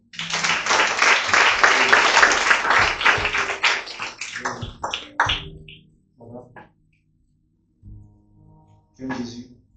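A church congregation applauding during a Sunday worship service: loud, dense clapping that thins into scattered, fading claps, with a few later isolated taps and hums.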